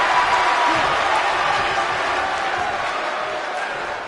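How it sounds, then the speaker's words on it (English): Wrestling arena crowd roaring steadily at an evening show, a dense, loud wash of cheering that holds throughout and eases slightly toward the end. "I don't remember the last time I heard a more passionate crowd than the one we have here tonight."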